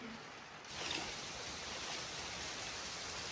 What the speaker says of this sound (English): it's rain, snow, and hail all at the same time. And wind.